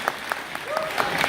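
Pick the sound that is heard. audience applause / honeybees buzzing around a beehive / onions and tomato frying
audience applause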